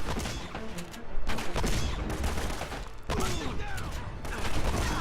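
Bursts of weapon fire and explosive impacts from a grenade launcher enemy in Uncharted: Drake's Fortune, a chaotic, dense barrage with sharp blasts around one and three seconds, loud and close, with faint voices mixed in.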